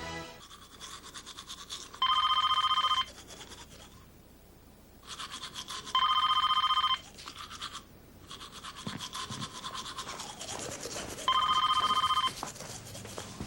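A telephone rings in a 1990s Ameritech Caller ID television commercial, its loud electronic trill sounding in three separate bursts of about one second each, spaced a few seconds apart over quieter background sound.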